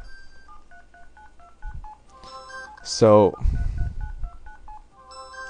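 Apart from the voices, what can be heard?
phone beeping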